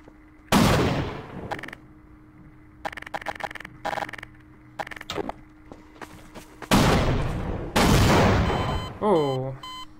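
Repeated heavy cannon blasts from a tank in the shooter Half-Life, several loud booms with long rumbling decays spread across the stretch, mixed with smaller clicks and bursts, ending on a sweeping electronic tone.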